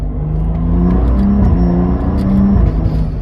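A stage 2 BMW F30 335i engine drones steadily with quick rev changes as the automatic gearbox downshifts from 5th to 3rd, the pitch stepping up; close and continuous, no talking.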